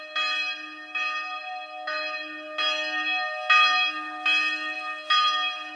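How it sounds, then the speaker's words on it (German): A church bell rings repeatedly in a slow, steady rhythm, each strike ringing out rich and resonant with long overlapping tones, fairly loud and clear with no talking. "Ich wusste gar nicht, dass die Glocke läutet."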